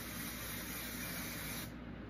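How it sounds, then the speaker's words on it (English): A close, continuous hiss of hair shine spray from an aerosol can, held steady for about two seconds before cutting off sharply, with no talking. "I forgot to spray my hair"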